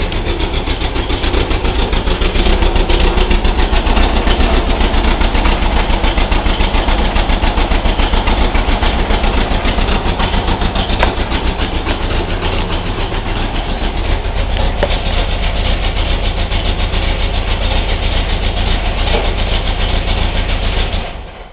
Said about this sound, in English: let's take a look at the engine right now when it's running